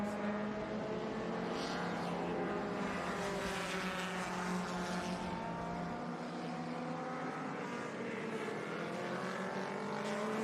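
Vintage race cars battle for second place on the Laguna Seca circuit, engines roaring loudly and continuously with rising and falling pitch as they lap, several cars overlapping throughout.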